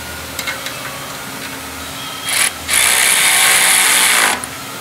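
Ratchet tightening M8 bolts with washers and copper nuts on a Porsche 992 Turbo sport catalytic converter: a few faint clicks, then a loud, close, steady run of rapid ratcheting lasting about two seconds, with no talk.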